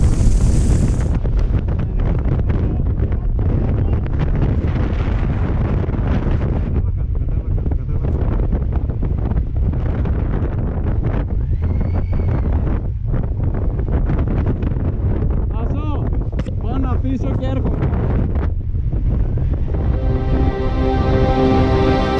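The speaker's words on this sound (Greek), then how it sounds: "η ταχύτητα του ανέμου στο συγκεκριμένο μέρος περνούσε τα 100 χιλιόμετρα την ώρα" Loud, constant wind over 100 km/h buffeting the microphone for the whole stretch, a heavy roaring rush with gusts and no voices.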